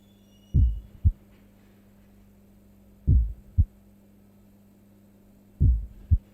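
A heartbeat pulses in slow, evenly spaced lub-dub pairs, three beats in all, deep and thudding over a low steady hum in the game Alien: Heart of Darkness.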